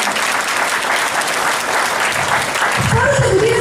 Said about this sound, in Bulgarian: Моля за вашите аплодисменти малко скромно.